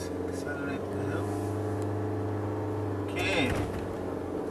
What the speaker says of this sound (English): Right, let's accelerate the hill.